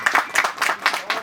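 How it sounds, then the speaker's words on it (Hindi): An audience at a film trailer launch party claps in several quick bursts, a lively, close round of applause with a slightly uneven rhythm. "2 जोरदार तालियां बजाएं"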